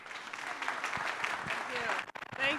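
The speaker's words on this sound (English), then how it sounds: "let's give a warm round of applause to Bonnie Simi." Conference audience applause for a speaker introduced on stage at a tech center winter summit; steady, moderately faint clapping filling the whole stretch, with some voices mixed in near the end.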